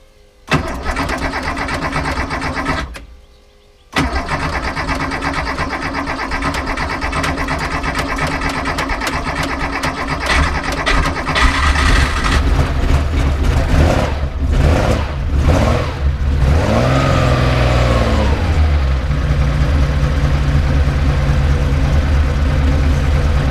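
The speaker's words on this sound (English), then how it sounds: "My 66 912 had mercy on me. It cranked up easily with its newly rebuilt carburetors." A 1966 Porsche 912 with freshly rebuilt carburetors cranks briefly, catches, and settles into a loud, steady idle with a few throttle blips and revs, heard up close.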